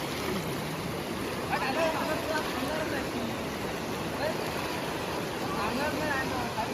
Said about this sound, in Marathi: फ्लो बघा, फ्लो जातोय त्याला हळूहळू